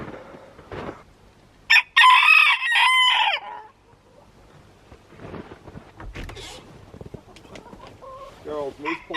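Near a backyard chicken coop, a rooster lets out one loud, close crow, followed by softer clucking from the hens, while a person talks quietly.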